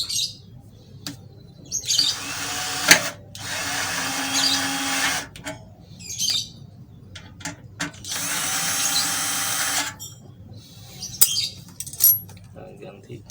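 An EELIC 12V cordless drill on speed 1 drives a 2 cm screw in several bursts, each a whirring buzz lasting one to three seconds, separated by short pauses with clicks and faint background sounds.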